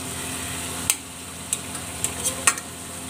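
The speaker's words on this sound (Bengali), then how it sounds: "আমি আবার একটু উল্টিয়ে দিচ্ছি, তাহলে এই পিঠটাও সুন্দর মতো হয়ে যাবে।" Hilsa fish frying in a pan as it is turned over: a soft, steady sizzle broken by a handful of sharp spatula clicks and taps, close and fairly quiet.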